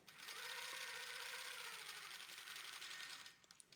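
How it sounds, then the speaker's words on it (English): A longarm quilting machine stitches steadily, guided along Westalee ruler templates: a continuous close mechanical whir for about three seconds that then stops, leaving a few faint clicks. "I even can use this straight line back here, and then I'll sew to the side"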